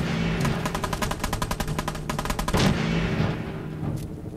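Rapid gunfire in Fallout 4, a fast rattling string of shots in steady bursts followed by a heavier blast and a few scattered shots, loud and close, with no talk.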